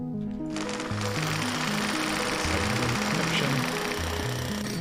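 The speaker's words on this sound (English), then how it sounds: "my jackhammer is" A jackhammer in the Mars survival game Occupy Mars pounds away in a steady, loud mechanical rattle with a droning low engine layer, running continuously after a short quiet start.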